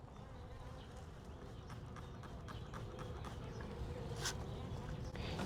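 Honey bees crowded in a three-pound package hum with a low, continuous buzzing drone, faint and steady throughout.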